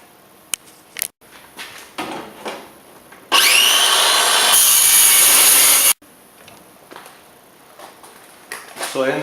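Power saw ripping wood strips for a drum lid, one loud sustained cut of about two and a half seconds between quieter handling noises, with a voice talking before and after.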